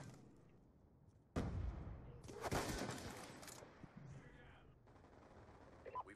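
Video game gunfire comes as a loud burst of shots that turns into sustained rapid fire, with players' voices heard around and under it.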